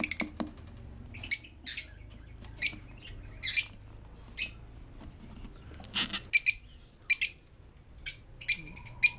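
Blue opaline African lovebirds in a nest box give sharp, shrill chirps and squawks in short bursts, close by, some in quick pairs and clusters against a quiet background.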